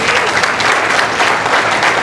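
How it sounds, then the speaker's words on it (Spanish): A church congregation applauds during a sermon, a dense, loud, continuous wash of clapping hands filling the room. "a quien te pido un aplauso."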